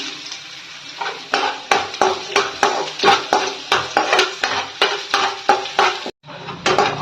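Garlic and onion fry in a pan, with a utensil stirring and scraping in a quick, regular rhythm over a continuous sizzle. The scrapes are close and fairly loud, there is a brief pause near the end, and nobody speaks.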